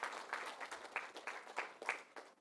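Scattered applause from a modest seminar audience, uneven claps blending into a steady patter for a couple of seconds, moderately loud.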